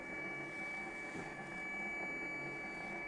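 A disc resurfacing machine runs steadily while it resurfaces a scratched PS2 disc, giving a constant, fairly loud mechanical whir and hum with a high tonal whine. No voices are heard.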